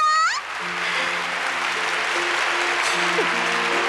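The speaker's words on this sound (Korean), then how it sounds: "멋진 경기를 펼친 두 선수에게 끝없는 박수갈채가 이어지고 있습니다." An audience applauds two players after a match at a sports day event, steady clapping running under background music tones, with a brief cat-like meow sound near the start.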